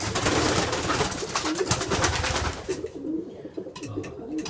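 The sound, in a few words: racing pigeons cooing in a loft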